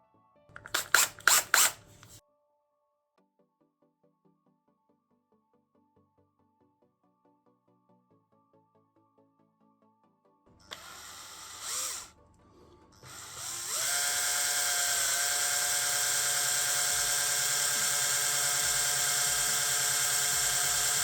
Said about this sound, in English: So I've drilled through and there's nothing sort of yielding, nothing giving way yet